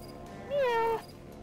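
A person imitates a cat's meow, a single short drawn-out vocal mew standing out over a steady background hum.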